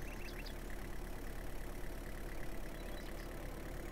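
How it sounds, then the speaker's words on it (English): A truck engine in Farmer's Dynasty drones on in a constant, even, mid-low rumble with no pauses and no talking over it. "I like the engine sound of the truck."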